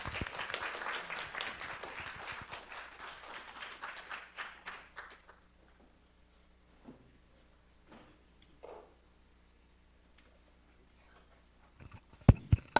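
Audience applause after a talk in the Diverse Voices series fills the first five seconds, dense clapping that thins out, then a quiet room with a few isolated thumps and a sharp clap or knock near the end.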